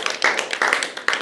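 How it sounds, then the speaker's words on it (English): A short burst of applause for contestant number 4 at a Dublin Open World Cup qualifier, a few uneven, fairly close claps that taper off quickly. "Round of applause for number 4."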